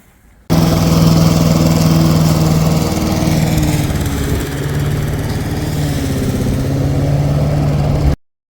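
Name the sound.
lawn mower cutting grass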